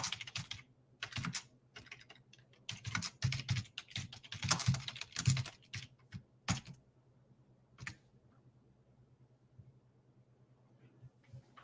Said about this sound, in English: Let me see if I can type this.